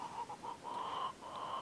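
Partridge Cochin bantam chickens cluck softly nearby in a short string of calls, a few quick clucks followed by longer drawn-out notes.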